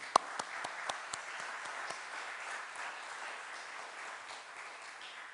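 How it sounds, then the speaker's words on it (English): An audience at an outdoor historic marker dedication for a high school coach gives a round of applause, opening with a few sharp, close claps before settling into soft, distant, steady clapping. "I would like you to give them all a round of applause."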